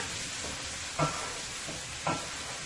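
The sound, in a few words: karela (bitter melon) frying in pan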